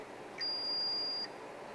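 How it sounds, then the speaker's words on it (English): An indoor hydroponic garden gives a single steady electronic beep on power-up, a clear high tone lasting under a second in an otherwise quiet room. "Okay, there was a beep."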